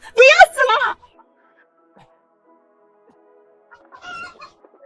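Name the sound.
roosters clucking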